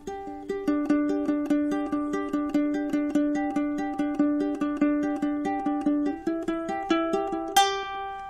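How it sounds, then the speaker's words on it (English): A simple ukulele melody is plucked alone, with evenly spaced single notes in a steady rhythm, close and clear, ending on a brighter strum-like note. "If I just grab the ukulele."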